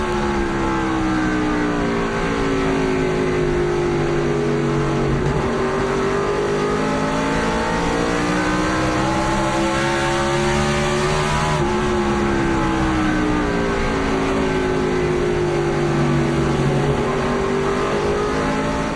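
A loud, continuous NASCAR Busch Series stock car engine heard from onboard during a 2007 race at Indianapolis Raceway Park, its pitch sweeping up and down through gear changes and corners with no pauses.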